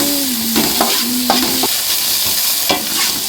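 Potatoes frying in oil in a pan as they are stirred: loud, close sizzling throughout, broken by several sharp scraping strokes of a utensil against the pan.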